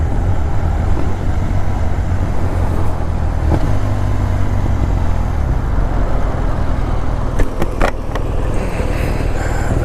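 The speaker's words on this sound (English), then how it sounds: "Like the wind noise, just the wind noise" Loud, constant wind roar buffeting a motorcycle rider on the road in intense heat, mixed with the steady drone of the engine and passing traffic.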